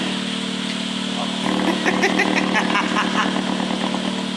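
Modified motorcycle engine started cold with a muffled tone, running steadily then picking up into a denser, clattering rev from about 1.5 seconds, close and loud without talk.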